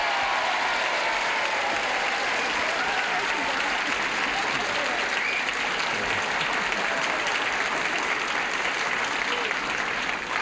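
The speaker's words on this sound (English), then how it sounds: "Sections are applauding" A game show studio audience applauds continuously, steady dense clapping from many hands that holds at an even, loud level throughout without pause.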